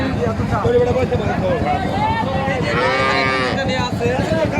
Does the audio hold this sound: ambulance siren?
no